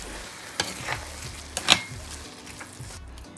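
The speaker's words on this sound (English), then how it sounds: "And now I'm going to give this a mix." A utensil stirs and scrapes lasagne sauce in a pot with a few soft clinks and knocks, over a low bubbling sizzle, fairly close.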